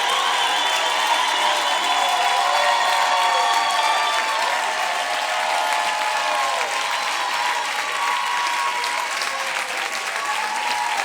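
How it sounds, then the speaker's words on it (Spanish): Sustained applause from a large church congregation, a dense, steady clatter of clapping that holds at full strength throughout with faint cheering mixed in. "Él es digno de recibir aplausos."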